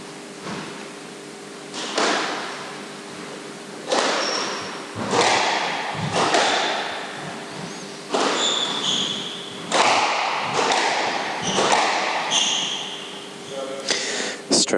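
A squash ball, struck during serve practice in a professional match, gives a series of sharp thuds that echo around the court. Some are spaced apart and some come in quick pairs, and a faint voice runs under them.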